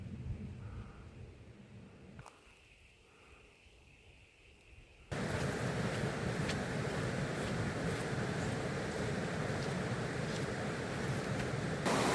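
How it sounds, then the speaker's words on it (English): Heavy rain pours outdoors at Boonoo Boonoo. A softer, patchy wash gives way at about five seconds to a sudden, loud, steady roar of dense rainfall that continues unbroken to the end, with no talking. "Rain's getting a bit heavier now"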